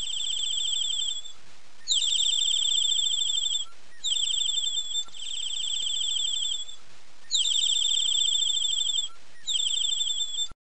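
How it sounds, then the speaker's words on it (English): High, rapid bird chirps come in long repeating bursts with brief pauses between them, clear and fairly close against a quiet background. "Chirping of birds."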